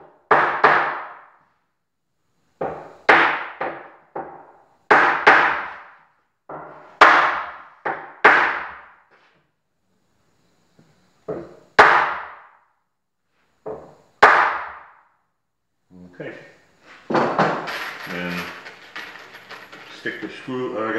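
Sharp hammer blows drive a wooden piece tight into a corner joint to square it, landing in spaced groups of two to four close, loud strikes, ending in denser knocking and handling noise.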